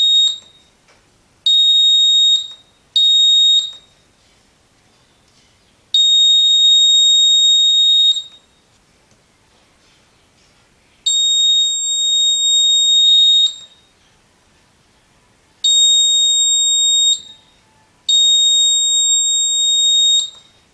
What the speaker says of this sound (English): Okay, the buzzer is working nicely.